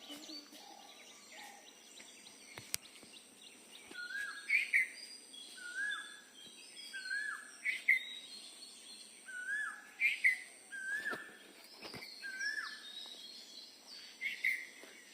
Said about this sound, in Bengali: কোকিলের ডাকটা অনেক বেশি সুন্দর